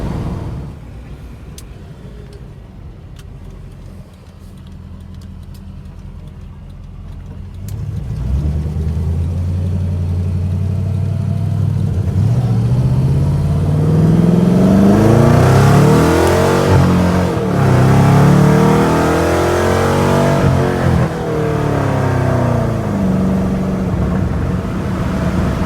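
A BMW E46 M3 launching hard, its engine rising from a low rumble into a loud, climbing howl, with repeated rising and falling sweeps as it pulls through the gears, close and alone.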